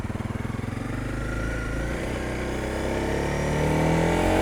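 An adventure motorcycle that sat unused for three months runs after starting right up, its engine thumping in a quick even rhythm at first, then building into a louder, smoother drone as it pulls away, close and alone.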